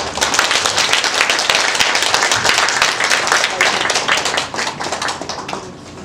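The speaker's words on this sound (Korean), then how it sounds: "저희들을 위해 큰 법문 내려주신 큰 스님께 박수 부탁드립니다" A dinner gathering's audience applauds a senior monk after his dharma talk, dense loud continuous clapping from many hands that fades slightly toward the end.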